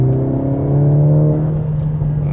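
A Mercedes GLA 45 S AMG in Sport Plus mode at full throttle, a loud steady engine drone with rising harmonic whine building continuously from inside the car, no voices.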